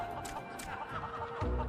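A chicken clucks in Final Fantasy 14, a few soft repeated clucks up close with a low thump near the end.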